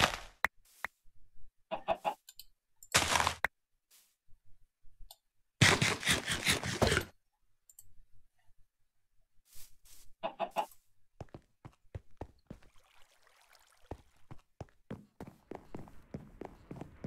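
Video game chickens cluck in short bursts and scattered pecks, with brief footstep-like taps between them, close and fairly loud with no voice.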